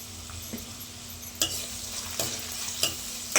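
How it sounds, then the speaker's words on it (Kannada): A spatula stirs capsicum chitranna (seasoned rice) in a pan, with soft sizzling under a few sharp metallic scrapes spaced about a second apart. "ಸಾಲ್ಟ್ ಆ್ಯಡ್ ಮಾಡಿಕೊಂಡು ಮಿಕ್ಸ್ ಮಾಡ್ಕೊಳ್ಳಿ"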